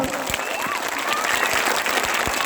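Loud crowd applause, a dense wash of many hands clapping, with a few faint voices mixed in.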